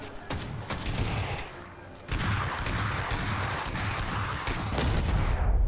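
Dense, sustained gunfire from the online shooter PUBG in a zombie mode: loud overlapping bursts and rapid shots roll on without pause, with no talking.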